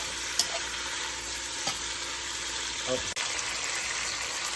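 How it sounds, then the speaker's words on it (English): Oxtail and cabbage with bacon simmering in a pot give a steady, moderate bubbling sizzle with occasional small clicks and knocks, with no speech heard. "Let that simmer for about 15 minutes."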